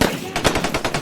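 Video game gunfire rattles in rapid automatic bursts, dense and loud, several shots overlapping in about a second of continuous firing.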